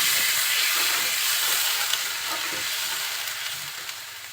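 Water splashes into spices frying in hot oil for a potol, potato and small shrimp curry, giving a steady broadband sizzle and hiss that fades slightly over a few seconds, with no talk.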